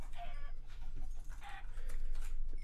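Chickens cluck in a video game, several short, nearby clucks in quick succession over steady low background noise.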